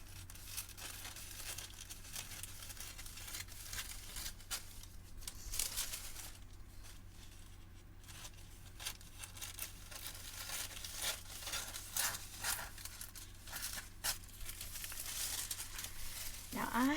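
Scissors cutting around book page paper for a junk journal cover, producing close, soft crinkling and snipping rustles that continue steadily with no talk over them.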